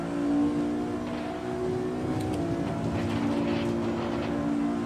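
A car engine in the racing game Assetto Corsa drones at steady revs, a loud sustained tone that holds briefly and then climbs slightly, with no voices.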